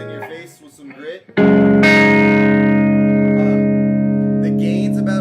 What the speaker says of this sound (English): Kind of dirties up a bit, gets right in your face with some grit.